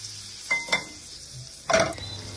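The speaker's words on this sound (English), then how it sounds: "Now we're going to add it to our frying pan and toast it." Egg-soaked bread set into a buttered frying pan for French toast: a few soft clinks and scrapes of utensil on pan, then a short burst of sizzling as the bread meets the hot butter, near and moderately quiet, no talk.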